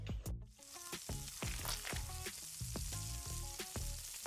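Pancake batter sizzling in a frying pan, a faint, steady crackling fry with rapid irregular pops throughout, no voices.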